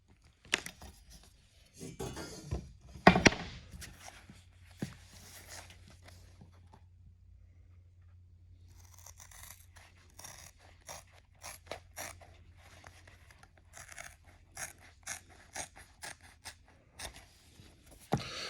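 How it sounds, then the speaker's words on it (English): Scissors snip and crunch through a piece of vinyl sheet cut to a 4 by 6 inch patch, a close series of short cuts with quiet pauses and a faint low hum beneath. "Here we're going to be cutting a 4 by 6 piece of vinyl"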